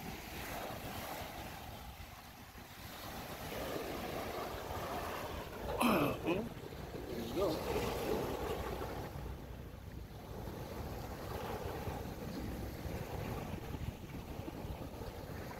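Strong sea waves washing along the shore of Manila Bay, a steady broad rush mixed with gusting wind buffeting the microphone, one louder surge midway, with faint voices in the background.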